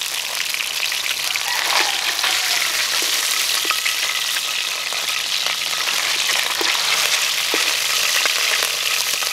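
Catfish frying in hot oil in a pan, a loud, dense, continuous sizzle with scattered crackles and pops throughout, no voices.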